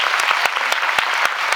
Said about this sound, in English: give a round of applause for the question